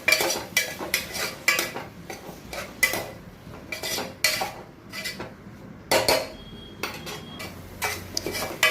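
Curry leaves added to a pot of salted dal and rice for parupu sooru, then stirred with a spoon, giving a brisk series of close metallic clinks and scrapes against the pot in an uneven rhythm.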